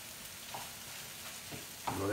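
An egg with cheese in a pan gives off a faint, soft sizzle, with a few quiet stirring scrapes and a slightly louder burst of frying near the end.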